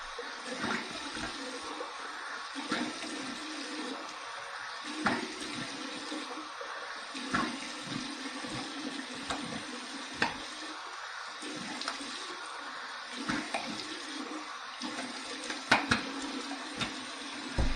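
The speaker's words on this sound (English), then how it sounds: "Let's go over here back to the faucet, and let's get some cold water here." Cold water running from a bathroom faucet during a wet shave rinse, a continuous splashing flow broken by intermittent louder splashes of water on the face and sink, close and fairly quiet.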